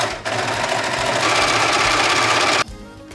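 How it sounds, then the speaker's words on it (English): A serger overlocks the edges of costume fabric in one loud, continuous whirring run that stops abruptly near the end, leaving quiet room noise. "I am serging all the edges to make sure that the fabric doesn't fray."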